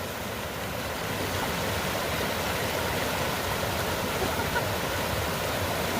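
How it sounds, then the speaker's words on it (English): A creek along the Cline River in Alberta flows nearby, a steady, full rushing of water that runs unbroken and fairly loud throughout. "We found a creek to go in."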